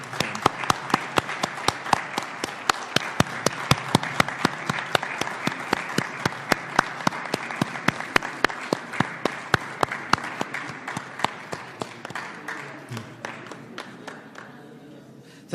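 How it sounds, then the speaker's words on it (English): Audience applause at a formal handover ceremony, many hands clapping in a dense, steady patter with sharp individual claps standing out, continuing for a long stretch before gradually thinning toward the end. "So I think we must give them a round of applause and a standing ovation."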